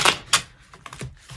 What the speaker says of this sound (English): This is a new deck, so it's a little stiff on the shuffle